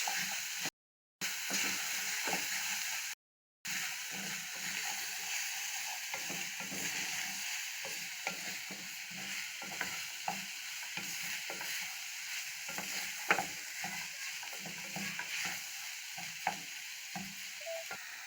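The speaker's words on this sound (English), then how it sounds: "You stir it until it's cooked." Taco meat stirred in a frying pan, with a constant low sizzle and light, irregular spatula scrapes and taps throughout, fairly quiet, broken by two brief dropouts near the start.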